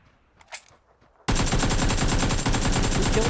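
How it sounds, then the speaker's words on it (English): Sudden sustained burst of rapid automatic gunfire in PlayerUnknown's Battlegrounds, loud and continuous after a brief quiet start, with no talking. "He was shooting at the tree, and the guy peeked left."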